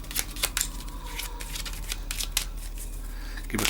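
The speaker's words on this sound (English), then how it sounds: "So you shuffle these ones," Game cards are shuffled by hand in a few quick, crisp riffling bursts, close and fairly quiet, with no talking.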